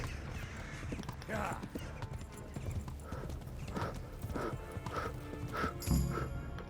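Horse hooves clip-clop in a steady walking rhythm in the video game Kingdom Come: Deliverance, with a whinny near the end and a voice talking over it.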